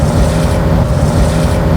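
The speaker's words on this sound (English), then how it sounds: "It sounds like either gravel dropping or gears grinding." A Ford F150 with a faulty IWE check valve gives off a loud, continuous grinding rumble, like gravel dropping or gears grinding, close and steady throughout.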